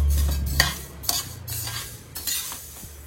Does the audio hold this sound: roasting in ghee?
yes